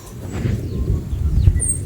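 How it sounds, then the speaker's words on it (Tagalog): A low, rolling rumble of thunder swells and lingers, with faint bird chirps above it. "Panay na po yung kulog."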